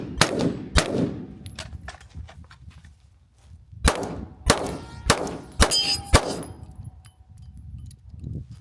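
Gunshots ring out against steel targets on a shooting range, sharp loud cracks each followed by a metallic clang, two early shots, a pause, then a quicker run of five or so, close and alone.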